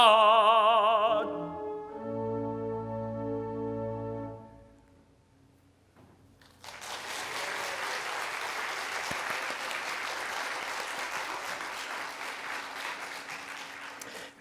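A church congregation claps during a Sunday afternoon service. The applause swells in after a sung musical passage fades out, then holds as steady, moderately loud clapping.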